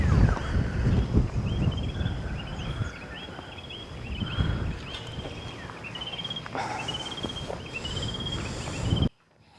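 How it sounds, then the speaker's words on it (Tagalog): Strong wind blows steadily across a mountain campsite high on Mt. Banoy, a continuous rushing roar with gusts swelling and easing, with faint insect chirps in the background. "Tsaka malakas yung hangin."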